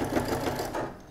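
Sewing machine stitches through folded fabric for a soup bowl cozy, a close, steady rapid whir with a quick mechanical pulse that holds briefly and eases off at the end.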